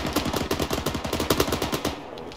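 Rapid automatic gunfire from a firefight in the military game ArmA, dense rhythmic bursts of shots fairly close and loud, continuing steadily for about two seconds before cutting off.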